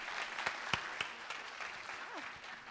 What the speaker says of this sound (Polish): gorące brawa dla samorządu